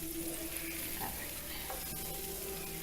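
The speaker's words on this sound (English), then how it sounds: "you're going to let this simmer a little bit until it thickens slightly" Sauce for chicken piquant gently simmering in a pan, a faint, even bubbling hiss with soft stirring sounds, continuous and fairly quiet.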